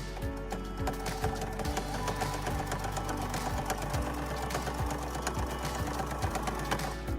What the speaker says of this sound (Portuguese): vou alinhar o meu viés junto com o meu trilho de mesa e vou costurar até chegar perto do meu dedo aqui.